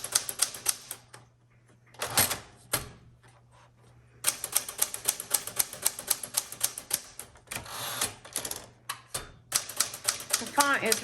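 Rapid keystrokes and carriage clicks from a 1967 Smith Corona Classic 12 manual typewriter, close and crisp in uneven bursts with brief pauses, a voice speaking between stretches of typing.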